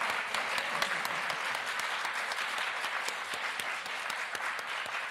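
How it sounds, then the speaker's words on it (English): Audience applause at a science fiction museum event, a dense, even wash of many hands clapping that holds steady at moderate loudness for several seconds without a break. "maybe with enough round of applause a second time"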